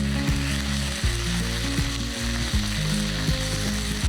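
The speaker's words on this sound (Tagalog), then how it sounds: "Pag-brown na yung ating mushroom, at natin ipabalik yung ating beef." Beef and browned mushrooms fry in a pan with a loud, continuous sizzle, broken by rhythmic scraping stirs roughly every second.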